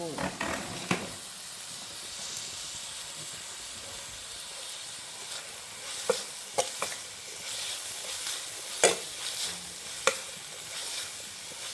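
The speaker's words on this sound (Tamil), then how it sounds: "நான் எடுத்து வச்சுருக்கிற கருவேப்பிலையும் கொஞ்சம் சேர்க்குறேன்" Curry leaves and onions fry in a pan for a homemade mushroom dish, giving a steady, soft sizzle and hiss broken by scattered pops and stirring scrapes.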